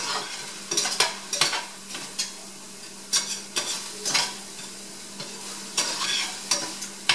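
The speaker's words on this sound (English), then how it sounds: "I'm just going to go ahead and toss the spices into our ground turkey" Ground turkey with spices cooking in a skillet, a soft continuous sizzle broken by repeated scraping stirs of a utensil against the pan, close and fairly loud.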